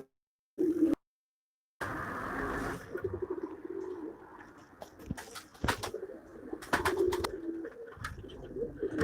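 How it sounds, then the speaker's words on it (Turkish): Pigeons coo softly in a coop, their low calls running through the background with a few brief sharper sounds and quiet movement nearby. "Size yakından kuşlarımı göstereyim"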